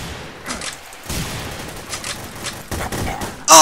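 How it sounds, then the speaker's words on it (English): Gunfire rattles through a round of the multiplayer game The Hidden, several quick shots in separate bursts over a busy background, ending in a sudden loud blast. "He fucking shot me!"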